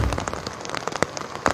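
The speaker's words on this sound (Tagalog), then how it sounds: "Magdamag din ang pag-ulan sa bayan ng Hinatuan." Heavy typhoon rain from Typhoon Basyang pours steadily and loudly over Hinatuan, with dense close drops pattering on surfaces and no voices.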